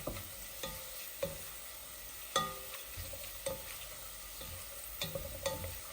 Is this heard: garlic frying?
yes